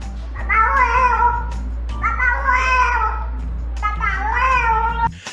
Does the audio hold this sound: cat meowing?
yes